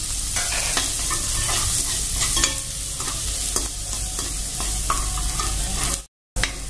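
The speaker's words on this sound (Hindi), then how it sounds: "अब हमारे कटी हुई प्याज डाल लेते हैं और इसको 1-8 मिनट के लिए भून लेते हैं।" Chopped onion sizzles with garlic and chilli in a hot wok, a dense steady fry punctuated by frequent scraping stirs and spatula clicks, close and loud with no talking.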